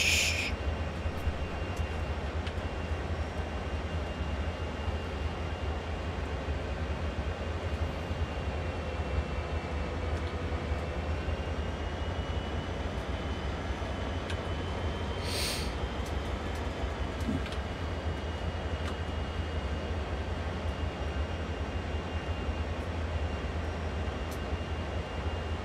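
A GP40 diesel locomotive labours up Sand Patch Grade in Train Sim World with a constant deep, droning engine rumble that holds steady throughout, broken only by a brief high clank midway.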